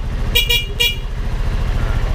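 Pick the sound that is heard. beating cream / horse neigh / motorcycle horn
motorcycle horn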